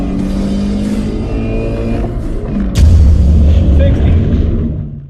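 A Scion FRS running nitrous (whipped-cream chargers) accelerates hard, its engine droning loudly and climbing in pitch through a gear change with a sudden deep surge, while people shout over it.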